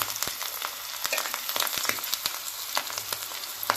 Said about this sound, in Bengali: এবার আমি তেলটা গরম হয়ে গেছে অল্প অল্প করে এক সাইড দিয়ে ছেড়ে দেব